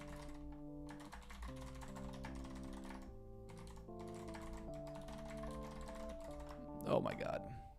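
Soft, close keyboard typing on a lagging computer comes as scattered clicks under steady background music, ending with a brief louder clatter.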